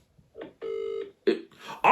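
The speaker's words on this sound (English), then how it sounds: "I'll phone Daniel" Phone dialing tones: a few short electronic beeps and one longer steady tone in quick sequence, faint and isolated, ending with a brief burst of louder sound.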